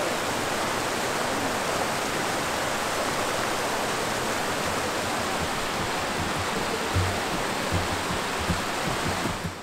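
Myrtle Falls on Mount Rainier's Skyline Trail pours with a steady, even rush of falling water, a constant broadband hiss that holds at moderate level with no voices.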